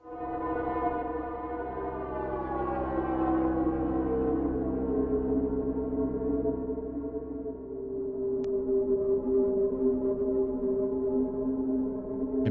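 A dissonant experimental synth patch from the Hive 2 software synthesizer holds a dense, stacked tone that slowly bends and shifts in pitch like a wailing siren, sustained and loud for the whole stretch with no talking.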